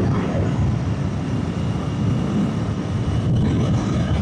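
A Royal Enfield Bear 650 motorcycle engine hums in a low, steady rumble while riding, with continuous wind rush and no talking.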